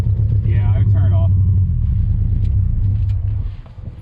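A misfiring 2.4L Ecotec engine swapped into a Miata at Gingerman Raceway, a loud uneven rumbling idle with a pulsing low throb that drops away near the end, voices heard over it.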